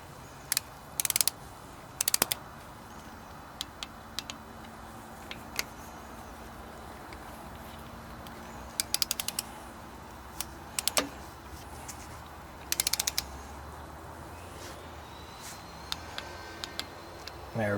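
Torque wrench clicks and ratchet ticks while a timing chain tensioner is tightened on a 2.0L Hyundai Elantra engine, scattered short metallic bursts over steady background noise, no talk.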